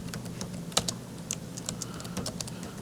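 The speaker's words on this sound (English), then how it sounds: "and I type in diameter" Typing on a computer keyboard: scattered, close, light key clicks in an irregular rhythm over a low room hum, with no talking.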